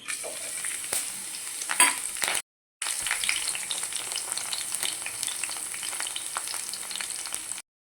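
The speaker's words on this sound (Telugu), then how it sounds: "ఎల్లిపాయి ఎండుమిరపకాయలు ఒక రెండు కొంచెం కరివేపాకు అండి ఇవి కూడా మనము తాలింపు చేసేసుకున్నాం" Loud, continuous sizzling of garlic, dried red chilies and curry leaves tempering in hot oil, broken by a short moment of silence, then sizzling again until the end.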